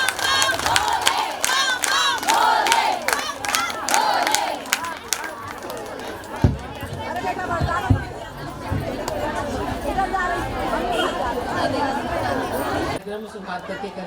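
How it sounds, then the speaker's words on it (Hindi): A crowd at a women's bhajan singing competition held in Bhopal for Shivratri makes loud, dense noise, with chatter, shouts and cheering running throughout and a brief drop in level near the end. "खूब जोरदार तालियां बजाइए, दम लगा के"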